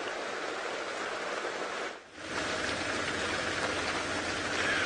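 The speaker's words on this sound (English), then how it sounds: "the rain is going to completely drench us inside our tent car" Rain falls steadily on a safari tent car at Chitwa Dam, a dense, even hiss of drops that dips briefly before resuming at full strength, with no talking.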